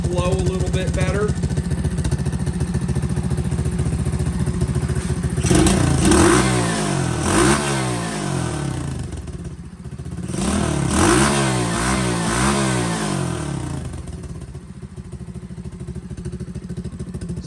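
A custom-built motorcycle with drilled exhaust holes idles with a rough, loud throb, then revs up twice in surging swells before settling back to idle.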